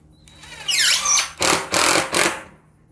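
Cordless 12 volt Mollar impact driver sinking a screw into 18 mm plywood without a pilot hole, a rising whine then three loud rattling hammer bursts, close and alone.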